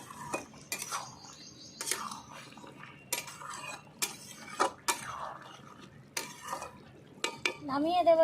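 A spoon stirs garam masala into a cauliflower and egg curry in a pan, giving sharp, irregular metallic scrapes and clinks close by, with soft sizzling between the strokes.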